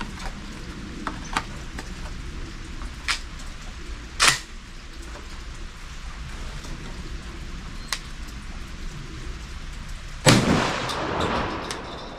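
A 20 gauge shotgun firing Winchester steel number 4 shot during pattern testing at 40 yards: one loud, sharp blast near the end with a short decaying tail, preceded by a few faint clicks and handling noises in a quiet outdoor setting.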